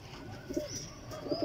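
Soft, low pigeon coos repeat twice in a short burst, close by and quiet, with faint background hum.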